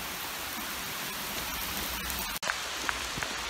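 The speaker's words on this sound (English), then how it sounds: "Suddenly it rains." Steady rain hissing down on surfaces outdoors in nature, a dense even patter with a few sharper drops near the end and no voices.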